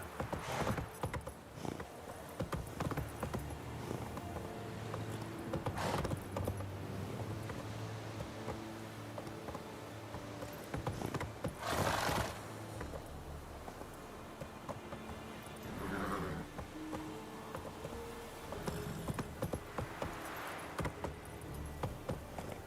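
Horse hooves galloping in The Witcher 3 on PS4 Pro, a steady run of clip-clop beats with wind and ambient game sound, interrupted by brief louder bursts.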